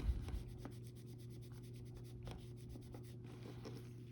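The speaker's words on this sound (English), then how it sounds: "I'm gonna rub the front one more time." Someone rubs the front of a Nintendo DS game cartridge, giving a quiet repeated scratchy scrubbing with faint rhythmic strokes over a low steady hum.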